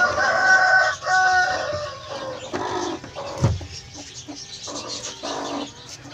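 A hen clucks beside a clutch of eggs on hatching day, with a mix of close clucks and other fowl calls in irregular bursts and a sharp knock midway.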